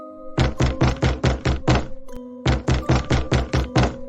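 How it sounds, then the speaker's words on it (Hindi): Cartoon knocking on a door: two quick runs of about six loud, even wooden raps each, split by a short pause, close and sharp over a faint steady hum. "अचानक दरवाजा खटखटाने की आवाज आई"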